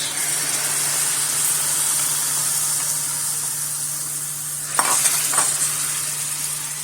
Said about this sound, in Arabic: فوالا البصل تاعنا تكراميليزا شويه، نضيف له دروا الطوماطيش